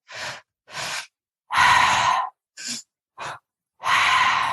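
Breathwork through the mouth: six heavy, deliberate breaths, short inhales alternating with longer, louder sighing exhales, each close and separated by brief silences.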